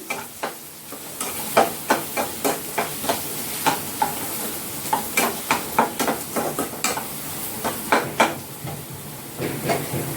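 Salt stirred into rohu fish curry in a pan over low heat, with rhythmic spatula scrapes and knocks roughly twice a second over a continuous soft sizzle, close and clear, no talking.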